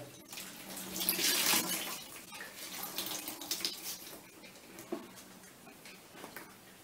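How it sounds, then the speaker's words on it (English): Water splashing and trickling as a cloth is rinsed in lukewarm water and squeezed while wiping tile grout, close and fairly quiet, with soft drips and gurgles. "Just rinse the cloth and keep wiping."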